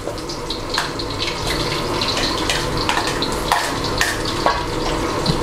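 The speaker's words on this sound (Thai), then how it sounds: "ผัดหอมหัวใหญ่สักครู่ก่อนนะครับ" Onion is stir-fried in a hot pan and gives a loud, dense, continuous sizzle with scattered scraping and stirring clatters close by.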